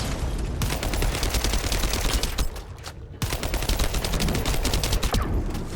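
Rapid, continuous automatic gunfire from shooting enemies in the video game The First Descendant, dense bursts with a brief pause near the middle, loud and close with no talking.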